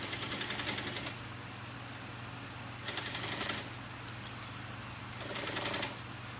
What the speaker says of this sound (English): sewing at a 1/2 inch seam allowance